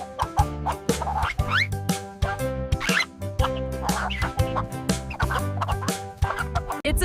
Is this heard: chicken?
yes